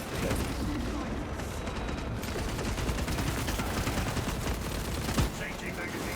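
Rapid gunfire and heavy weapon blasts from a Warhammer 40,000 Space Marine 2 battle against Chaos and Tyranids, dense and continuous with a sharp louder shot near the end, mixed with game voice lines.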